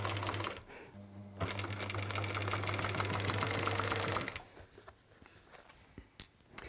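A sewing machine stitching fabric place mats runs in a fast, steady mechanical whir for a few seconds, close by, then stops, leaving quieter handling noises.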